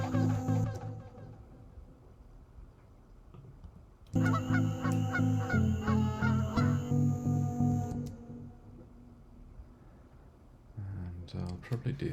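Geese honk loudly in repeated bursts, part of an animal recording arranged into a song, with clipped honks pulsing in rhythm and a pause between sections.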